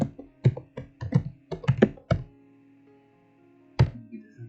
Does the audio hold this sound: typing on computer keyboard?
yes